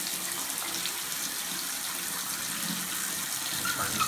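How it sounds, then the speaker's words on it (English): Steady water runs from a bathtub faucet with new stems and seats, a constant hissing gush that holds the same level the whole time and has no voices over it. "I've also still got a pretty good amount of water coming out of the faucet at the tub"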